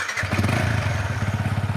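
A Yamaha R15 V3 motorcycle engine fires up after a brief crank and settles into a close, steady pulsing idle, loud and alone.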